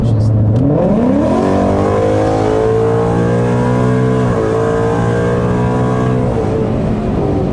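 A tuned 2019 Ford Mustang GT engine revs up hard and loud, its pitch climbing through several rising surges as it accelerates, close and steady for several seconds.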